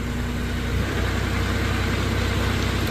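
Kohler engine of a 2015 Moffett M8 55.3 truck-mounted forklift running just after starting, a steady, loud, close idle with an even low throb throughout.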